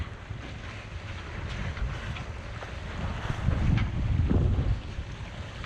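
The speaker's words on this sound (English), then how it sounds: "So I'm gonna come around and show you that we are sailing, folks." A sailboat under sail in chilly wind, with steady rushing wind buffeting the microphone and water washing along the hull, swelling louder midway.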